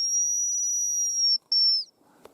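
A hunting whistle is blown in a forest, one long, steady, high pure tone followed by a brief second blast after a short gap, then quiet.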